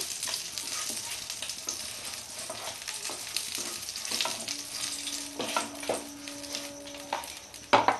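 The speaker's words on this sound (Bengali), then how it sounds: "বেগুনটা আমার ভাজা হয়ে গেছে আমি এবার বেগুনটাকে তুলে নেব" Eggplant frying in oil in a Bengali home kitchen, a soft steady sizzle broken by scattered clinks and stirring scrapes, with a few faint tonal background sounds.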